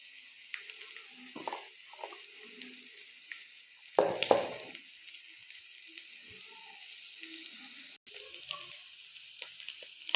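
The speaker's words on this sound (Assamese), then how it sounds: "আৰু ভালদৰে লাৰি দিম।" Sliced bitter gourd frying in a pan, a quiet sizzle under intermittent spatula stirring and scraping, with a sharper clatter of utensil against the pan partway through, close up and without speech.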